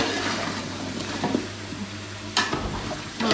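Chicken pieces fry on high heat with ginger garlic paste in a large pot of Pakistani achari chicken curry, giving a steady sizzle with occasional stirring scrapes and clanks.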